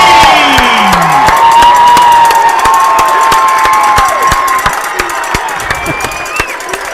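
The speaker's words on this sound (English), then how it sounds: "As soon as this crowd gets done being rowdy" A rowdy crowd at a Marion vs Haven school basketball game cheers and shouts continuously, with whistles sounding and sharp claps and stomps scattered through the loud, sustained roar.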